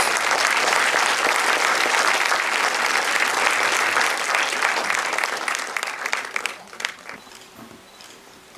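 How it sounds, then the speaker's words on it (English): Warm, loud applause from an audience at a Toronto movie premiere, continuous dense clapping that thins out and tapers off over the last few seconds. "Please bring her up with a warm applause."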